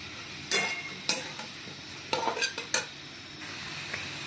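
Spice paste with stalk and potato pieces being stir-fried in a pan, soft sizzling under intermittent sharp scrapes and clinks of a spatula against the pan at irregular intervals, close up, no talk.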